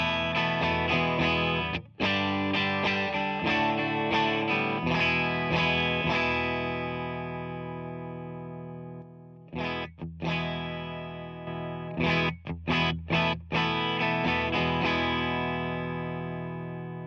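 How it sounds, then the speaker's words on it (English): Electric guitar with single-coil pickups played through a J-Rocket Archer clean boost pedal, ringing sustained chords and picked notes with several brief pauses and restarted strums, loud and close with a slightly driven, fattened tone. "Next, I run a J-Rocket Archer as a clean boost"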